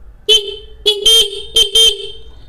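A nearby repaired sealed Minda car horn sounds loud and clear in short bursts: one toot, then a double, then another double.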